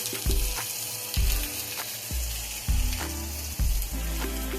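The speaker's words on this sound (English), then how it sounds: "You want that sizzle on that. Get that sizzle." Chicken coated in a marinade rub searing in a hot skillet, with repeated bursts of sizzling each time pieces are laid down, settling into a steady crackle between them, close and fairly loud.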